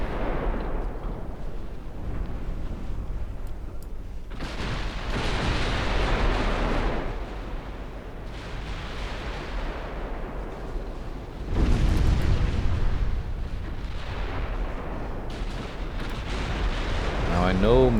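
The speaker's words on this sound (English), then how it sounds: "Probably not decent enough to stand up to all these battleship guns." Heavy battleship guns in a naval battle in Ultimate Admiral Dreadnoughts, booming salvos that rumble and roll out in several big surges, loud and near, under a speaking voice.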